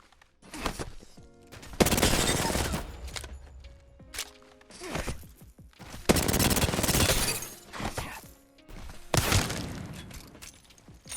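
Video game gunfire aimed at a training dummy during movement practice, coming in several loud bursts of rapid shots separated by short pauses, with no talking.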